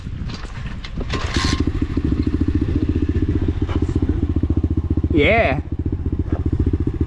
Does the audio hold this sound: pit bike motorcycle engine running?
yes